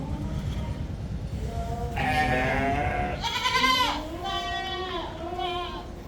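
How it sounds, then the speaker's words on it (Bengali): Goats and sheep on a farm bleat close by, with several wavering calls in quick succession over a low background rumble. "আমাদের ছাগলগুলা আছে, ভেড়া আপনাদেরকে দেখানোর চেষ্টা করতেছি।"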